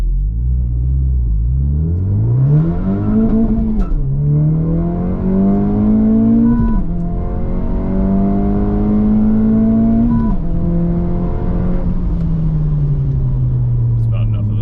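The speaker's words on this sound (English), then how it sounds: "now I'm in a position where I could do a full throttle pull" A Honda Civic Type R FL5 with a Remark titanium exhaust accelerates at full throttle from a stop, heard loud from inside the cabin. The engine note climbs through several gears, each rising drone broken by a brief dip at the shift.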